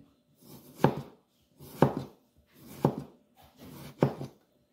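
An avocado seed is sliced with a knife on a board: four evenly spaced firm chopping thunks, each close and distinct with a short scrape, separated by near silence.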